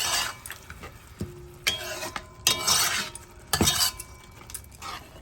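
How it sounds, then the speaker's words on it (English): Utensil clinks and scraping in a pan as ketchup is swirled into a Cuban shrimp creole sauce, a few distinct metallic taps among soft stirring, close and fairly quiet with no talking. "I'm going to go ahead and put in a squirt of ketchup. Swirl that around."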